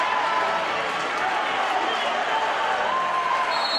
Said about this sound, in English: Cantwell, fans of both sides are giving the applause.